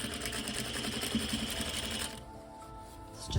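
A sewing machine runs steadily, joining seams on toile fabric for box-pleat valances, with a close, continuous whirring stitch that stops about two-thirds of the way through, leaving quiet handling noise.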